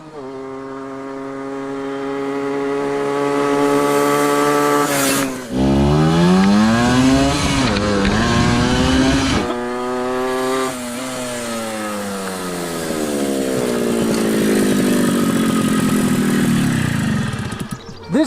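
Suzuki OR50 two-stroke mini chopper motorcycle ridden past, its loud, buzzy, high-revving engine rising and falling through repeated throttle swells and gear changes, close and continuous without talk.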